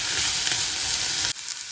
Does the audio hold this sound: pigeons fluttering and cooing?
no